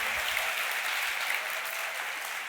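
A church congregation gives a round of applause, a broad, even wash of many hands clapping at a distance that holds steady and fades slightly at the end.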